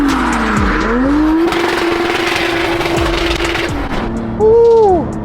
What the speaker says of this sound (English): let's see if we can get one good skid somewhere.